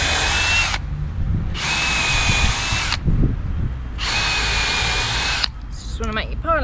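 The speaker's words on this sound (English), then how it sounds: "We have our drill, which we have set up with a 4mm drill bit." Cordless power drill running a 4mm bit through timber for pilot holes while building a wooden raised garden bed, three loud whining bursts with short pauses between them and low voice murmur underneath.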